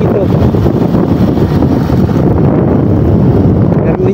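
Water rushing over a spillway near caves in Ragay, a dense, steady roar heavily buffeted by wind noise across the microphone, loud and continuous with no break.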